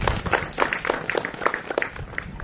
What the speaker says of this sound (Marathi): टाळ्या झाल्या पाहिजेत एकदा त्यांच्यासाठी.